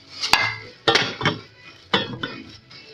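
Stainless steel pot and lid from a cookware set clink together in three sharp metallic knocks, each followed by a short ringing rattle, close and fairly loud with no talking.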